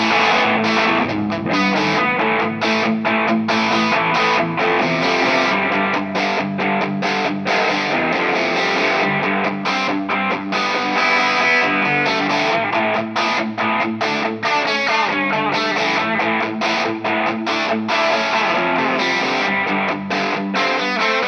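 An electric guitar with gain and distortion runs through a Suhr Discovery analogue delay, with sustained chords and picked notes ringing out and repeating in echoing trails, loud and steady throughout with no talking.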